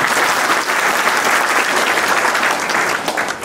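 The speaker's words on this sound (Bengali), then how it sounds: "আরেকটা জোরে হাততালি" Loud, sustained applause fills a hall at a motivational quiz session at Sylhet Polytechnic Institute, a dense wash of many hands clapping without a break.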